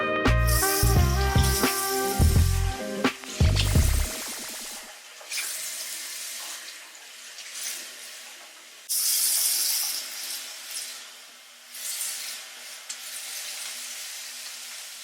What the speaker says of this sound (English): I'm going to fill this with water and just squirt it in.